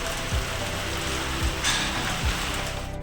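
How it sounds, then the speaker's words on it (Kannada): Heavy first rain of the season pouring steadily at Anantapura in Sagar taluk, Shivamogga district, a dense continuous hiss of drops drumming on surfaces close by, with no voices. "ಟೋಟಲಿ ಗಾಯ್ಸ್ ಜೋರಾಗಿ ಮಳೆ ಬರ್ತಾ ಇದೆ"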